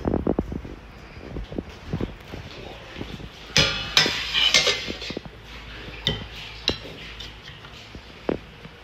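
Clinks and clatters of lids being set onto kitchen dishes and pots at night, a run of sharp metallic knocks and scrapes of varying loudness, close by, with rustling between them.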